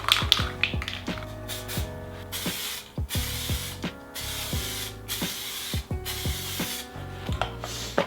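AutoDip is sprayed from a can onto car wheels for a second coat, heard as a series of close, hissing spray bursts of a second or so each, separated by short pauses, with no speech.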